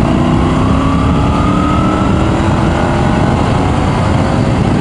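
A Triumph Tiger 900 Rally Pro motorcycle engine pulls hard, a loud, continuous drone climbing steadily in pitch under heavy wind rush.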